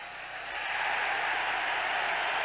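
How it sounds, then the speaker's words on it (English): A football stadium crowd at a 1999 San Francisco 49ers at Arizona Cardinals Monday night game roars in a broad, steady wash of cheering that swells slightly and holds. "Crowd loves it."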